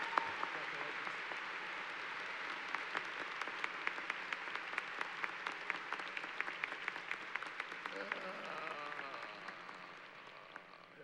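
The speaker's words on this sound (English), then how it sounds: "Give her another big round of applause." Commencement audience at Becker College's 2017 ceremony applauding the student speaker: sustained, fairly distant clapping with sharp individual claps standing out, tapering off toward the end.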